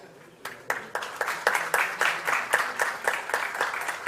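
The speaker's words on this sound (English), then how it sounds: "Thank you for the round of applause" Conference audience applauding during an AI startup session, a steady wash of many hands clapping that swells in after a brief quiet start and continues loudly throughout, with no talking over it.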